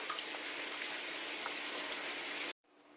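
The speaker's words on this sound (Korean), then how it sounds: "이걸 이제 잘 섞어줍니다" A spoon working through a thick chocolate salami mixture in a bowl, giving a steady wet, grainy churning that runs unbroken for about two and a half seconds and then stops abruptly.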